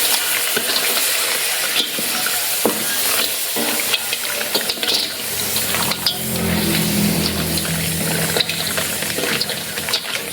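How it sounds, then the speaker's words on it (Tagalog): Water poured in a steady rushing stream during toilet and bathroom repair work on a farm, loud and continuous with splashing that deepens partway through. "Lagyan mo na ng tubig."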